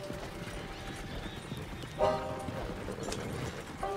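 Horse in Red Dead Redemption 2 clip-clopping along a road, steady hoofbeats throughout with a brief whinny midway, moderately close and heard alone without talk.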